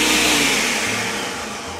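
A blender whirs in a quick burst while mixing a tequila drink for a Cinco de Mayo cocktail, a loud steady motor whine that fades slightly toward the end, with no talking.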